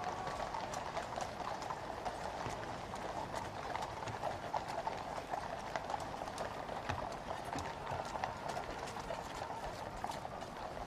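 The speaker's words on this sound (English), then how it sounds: "The hand horse is Jasper." Horses' hooves clip-clopping along the parade route at Trooping the Colour in London, a soft, distant, continuous patter of many hoofbeats in an open-air ceremonial setting, with no voices.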